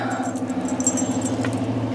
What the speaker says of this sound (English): Glove box keys.